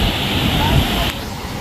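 The Beas river in Himachal Pradesh rushes loudly after a flood, a steady broadband roar of water close by, continuing throughout.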